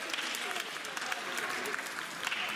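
Steady audience applause greeting a young singer at a concert, a continuous even patter of many hands at moderate distance with no talk over it.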